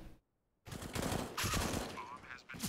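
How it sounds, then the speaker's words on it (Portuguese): Rapid gunfire in a Counter-Strike women's league match on Dust2 bursts out after a brief silence and continues in dense, loud volleys, with a commentator talking over it. "a Isa traz a Tina ao chão e já tá desconfiada da Lane, vai encontrando, garante mais uma kill"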